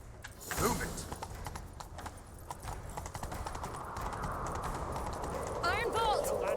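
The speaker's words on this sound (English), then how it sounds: "Grab a horse, we'll chase him down." Rhythmic hoofbeats of a galloping horse in the video game The Witcher 3: Wild Hunt over a steady rumble, with a creak early on and a brief whinny-like call near the end.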